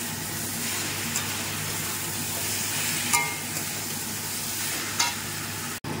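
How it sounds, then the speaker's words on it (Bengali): Ginger garlic paste frying in a pan, a steady close sizzle with occasional light stirring clinks and a brief knock near the end. "আমি এর মধ্যে আদা রসুনের পেস্টটা দিয়ে দিচ্ছি, দিয়ে এবার ভালো করে কষাবো।"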